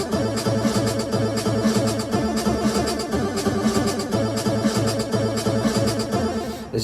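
A Pocket Operator PO-20 arcade synthesizer loops a programmed chord pattern, with steady rhythmic synth chords and bass notes pulsing at an even volume throughout, alone with no talking.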